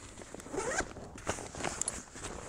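The Y zipper on a Mystery Ranch Coulee 25L backpack is drawn open in a few quick, close rasping pulls with brief pauses between.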